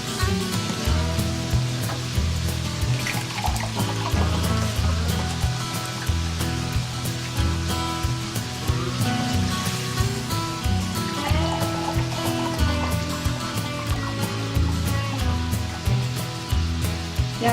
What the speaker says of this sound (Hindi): अब हम इसमें 2 गिलास पानी के ऐड करेंगे।